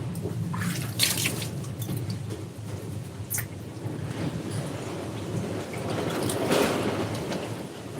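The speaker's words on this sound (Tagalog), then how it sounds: "Sobrang lakas ng hangin dito sa amin." Strong wind roars and buffets steadily throughout, with gusty bursts rising and falling, loud and close, no voices.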